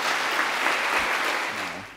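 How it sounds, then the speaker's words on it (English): A Python conference audience gives a round of applause during lightning talks, with dense, even clapping that holds steady, then tapers slightly at the end. "Big round of applause."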